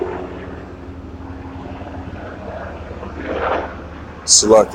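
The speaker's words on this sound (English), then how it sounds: "I'm gonna wait till this helicopter fly over" A helicopter flies over, making a low, steady rumble that swells slightly toward the end, with a few brief sharp sounds on top.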